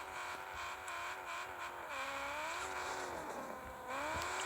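A car in a car parking video game drives along with a steady engine drone whose pitch rises and dips as it revs, faint and continuous without talk.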